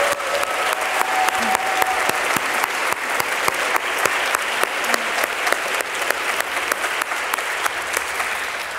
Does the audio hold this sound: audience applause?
yes